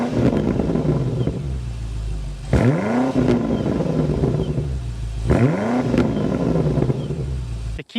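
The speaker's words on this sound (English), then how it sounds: "so you can hear that exhaust note" A BMW X5 M Competition engine idles with a deep, loud exhaust rumble, then blips twice in sharp revs that rise and fall back, each spaced a few seconds apart, before cutting off abruptly at the end.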